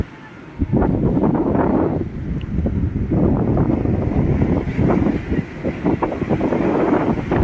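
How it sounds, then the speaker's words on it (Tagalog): Large waves crash and surge on a beach amid strong wind buffeting the microphone, a loud, rough roar with repeated surges and a voice speaking faintly underneath. "Malaki lang po talaga ang alon yun."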